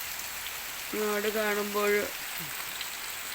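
Steady rain falls throughout, a continuous even hiss with a brief tonal voice-like sound rising over it midway.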